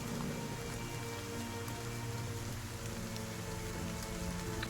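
Rain falling steadily, a continuous dense hiss of drops on surfaces, even and unbroken, close and fairly loud, with no voices.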